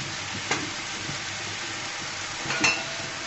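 Hill beans and potatoes stir-fry in a pan, a steady close sizzle with two louder scraping stirs of the spatula against the metal, about a second and two seconds apart.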